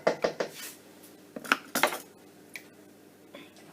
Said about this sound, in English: pour over my cheesy sauce. Just scrape it all in